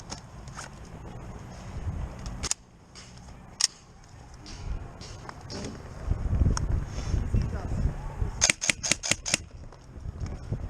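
An airsoft M45 lays down suppressing fire during an outdoor skirmish: a quick run of sharp, rapid cracks near the end, over wind noise, movement, and scattered single shots.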